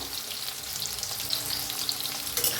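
Onion, green chili and chopped tomato fry in a pan and are stirred, a close, steady sizzle with light scraping and a few crackles.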